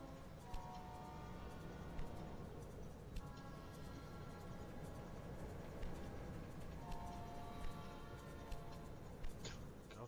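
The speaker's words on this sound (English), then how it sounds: "Loads of trains coming in." Trains arriving in the Railway Empire 2 video game, a quiet, steady rumble of rolling stock with faint periodic clicks and brief tonal hums, low in level with no talking.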